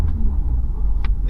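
Deep engine rumble from inside a 2026 Toyota Hilux pickup truck accelerating, a steady loud low drone with a brief rustle near the end.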